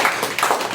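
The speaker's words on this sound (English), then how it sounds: "a round of applause for everyone" Brief burst of applause from a small meeting group, a few scattered claps close by, moderately loud and over in under a second.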